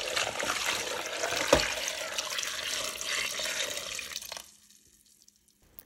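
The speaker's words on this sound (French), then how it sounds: "j'ajoute juste assez d'eau pour bien couvrir mes pommes" Water pours steadily into a large pot holding apples, a close, even rush that cuts off, leaving a few faint drips.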